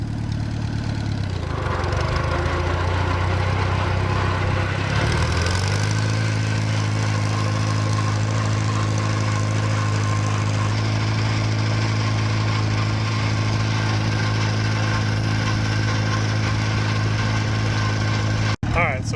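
An old, previously locked-up tractor engine runs roughly, a loud, uneven low rumble with a lumpy idle that rises after a few seconds, and someone talks over it throughout.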